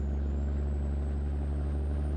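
A heavily loaded truck, hauling a long train of trailers, accelerates slowly with a steady, deep diesel engine drone, loud and close from inside the cab, unbroken throughout with no talk.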